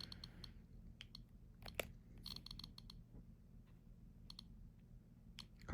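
Soft, rapid plastic clicks from an iPod nano click wheel in short bursts over a low steady hum, quiet and close.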